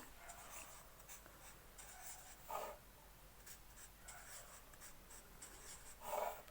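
Numbers being written on a board, faint scratchy strokes in short bursts with quiet pauses between, close and soft, with no voices.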